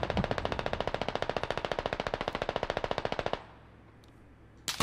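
Rapid automatic machine gun fire in the military shooter game Squad, a long steady burst of evenly spaced shots for about three seconds, then a quiet lull before another sharp burst at the end.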